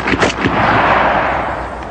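A rifle firing .308 NATO ball rounds into dirt outdoors, a quick burst of loud sharp reports followed by a broad rolling echo that fades out.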